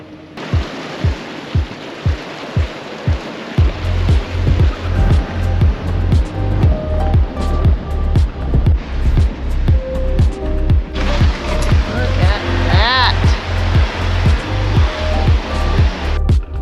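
A 4x4 van crosses a trail water crossing, with loud churning splashes and rushing water over a steady rhythmic engine-like pulse, continuous and close throughout, no voices.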